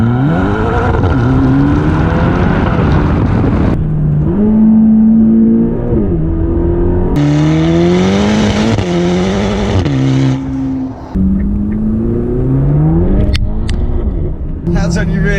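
A Ferrari GTC4 Lusso, two-wheel drive, accelerates hard in sport mode, its engine note climbing through several gears with sharp drops at each upshift, loud and close from inside the car.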